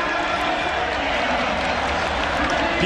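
A home crowd roars steadily at the African Games before a men's 100m semi-final, a dense, loud wash of cheering and applause that holds constant throughout.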